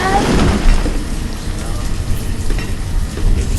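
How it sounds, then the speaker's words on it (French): Steady rain falls in the city-builder game Banished, a dense continuous hiss that stays loud and even throughout, with a brief burst of talk near the start. "Ah mais il pleut encore dans ce jeu"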